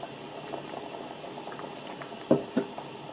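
Fish-head soup made with whole yellow croaker boils in an open pot, a soft continuous bubbling with a couple of louder pops near the end, heard close and alone.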